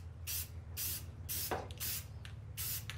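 Light coats of primer are sprayed from an aerosol can onto a John Deere X-Series 48-inch mower deck, a series of about six short hissing bursts, close and evenly spaced, over a low background hum.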